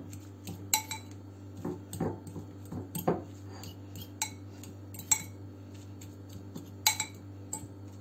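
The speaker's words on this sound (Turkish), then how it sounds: "Çatalla şöyle biraz eziyorum." A fork scrapes and taps against a mixing bowl while mashing white cheese for a börek filling, giving irregular soft clinks and scrapes, close and fairly quiet, with a low steady hum underneath.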